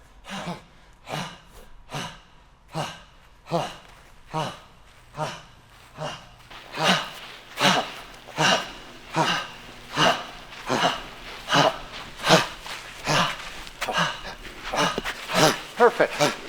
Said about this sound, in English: That is extreme hyperventilation.